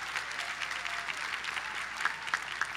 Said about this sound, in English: Glenn and Ellen, give them a round of applause wherever they are